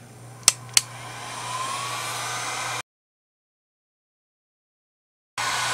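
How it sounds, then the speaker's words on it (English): A heat gun blows a steady airy hiss across poured resin in heart and square molds. Two sharp clicks come near the start, then the sound cuts to silence and the blowing resumes. "And I do have my heat gun. So, to blow the resin around."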